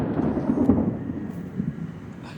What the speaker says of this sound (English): Expect some thunder in a moment here.